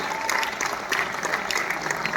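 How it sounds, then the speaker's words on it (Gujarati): Audience clapping steadily throughout at a dance school's annual function closing ceremony, a dense, continuous round of applause from a seated crowd. "તાળીઓના ગડગડાટ સાથે આપણે વધાવી દઈએ."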